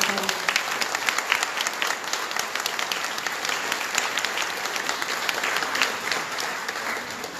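An audience at a conference gives the speakers steady, dense applause: a full, continuous patter of many hands clapping at even loudness throughout.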